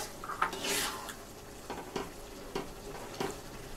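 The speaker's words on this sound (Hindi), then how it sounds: "अब हम इसमें अपने ली हुई छोटी इलायची मिक्स कर रहे हैं।" A spoon stirs small green cardamom into moong dal halwa in a pan, giving a few soft scraping strokes and light clinks against the metal, fairly close and quiet, with no voices.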